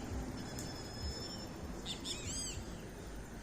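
Birds sing and chirp outdoors in a changing landscape, with short high calls and warbling phrases scattered faintly over steady background noise.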